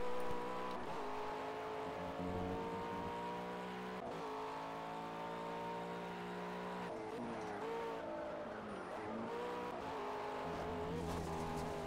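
A GT3 race car in Project CARS on Xbox One drives steadily, its engine tone holding loud and continuous with shifting harmonics and gear changes, brief tyre squeal hinted near the end, and no talking.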